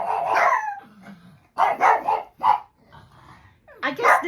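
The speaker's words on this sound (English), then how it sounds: "I guess this week my videos are just going to be full of Callie and Mula barking" Two dogs bark indoors in a series of loud, close barks in short bursts, with some quieter gaps and growling between them.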